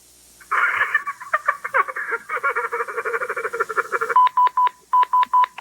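Telephone keypad dialing tones on a live call-in TV show, a rapid run of short even beeps near the end, preceded by a loud croaking, laughing-like vocal sound.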